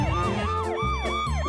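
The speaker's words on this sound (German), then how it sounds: "Und die Sirene darf natürlich auch nicht fehlen." Cartoon emergency vehicle with a long ladder, a fire-truck style unit, sounding a continuous wailing siren that sweeps up and down in repeated cycles with a steady engine hum beneath, loud and close.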